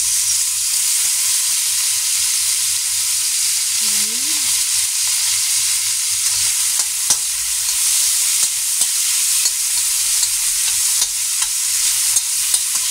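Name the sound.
garlic, pork and tomatoes sizzling in a pan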